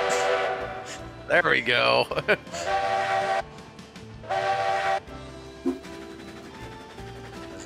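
A steam locomotive whistle in the railroad game Railroads Online sounds in a few loud blasts, one long sweeping call and then shorter toots, with someone talking over and between them.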